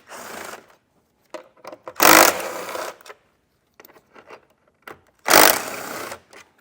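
A T40 driver, likely a power tool, backs out Torx bit fasteners on a 2022 Jeep Grand Cherokee during a base plate install, heard as two loud whirring bursts between softer clicks and handling noises, without talk.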